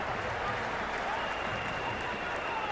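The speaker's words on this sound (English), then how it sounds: "The crowd are really getting quite raucous." A raucous crowd at an IPL cricket match between CSK and PBKS roars and claps in a dense, unbroken wash of noise, loud and steady throughout, with voices blended into the din.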